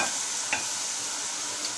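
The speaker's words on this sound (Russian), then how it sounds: "О, да, поджаривается" Cubed cabbage fries in a pan for vegan lazy cabbage rolls, a steady close broadband sizzle throughout with a couple of brief sharper spits and no talk.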